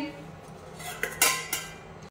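A few light clinks and clatters of pots and dishes in a home kitchen while food is reheated, faint and spaced out over a quiet background.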